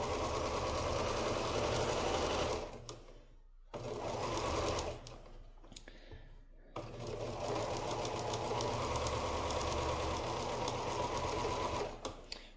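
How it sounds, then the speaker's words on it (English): Sewing machine stitching a curved quilt block, running steadily and loudly in long bursts with two brief pauses, no talking. "I'm going to just keep that curve lined up and go ahead and sew all of this together."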